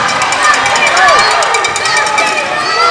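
Crowd in a gym at a boys' high school basketball playoff game, a loud, sustained roar of shouting and cheering from many fans, with sneaker squeaks and the game commentator's voice underneath.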